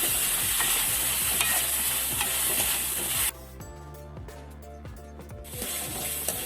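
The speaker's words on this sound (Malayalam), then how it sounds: "സവാള നന്നായിട്ട് നമുക്ക് വഴറ്റിയെടുക്കാം." Sliced onions and green chillies sauté in hot oil for a crab fry, giving a loud, continuous sizzle with scraping stirs, a brief quieter stretch of clinking and scraping, then the sizzle swelling again.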